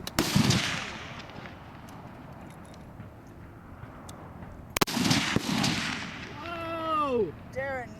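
An F-Class rifle fires at a 1000-yard range in Phoenix, Arizona, giving one sharp loud report with a rolling echo in the open air. Voices talk, more clearly near the end.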